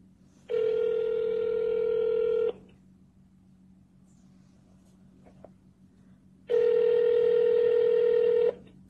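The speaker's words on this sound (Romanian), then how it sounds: "Ștefan Ilie a sunat la companiile subordonate și a demonstrat că nu răspunde nimeni la telefon." Two long steady telephone tones, each about two seconds with a pause between, on an office phone line in the Tulcea city hall where nobody answers; no voices.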